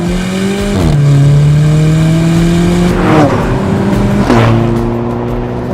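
A car with 237 horsepower accelerates hard from a standstill to 60 mph on a test drive, its engine revving loudly and climbing through several gear changes with steady, near, full-throttle power.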